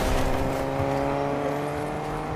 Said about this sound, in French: il est encore en train de faire euh, chauffer le moteur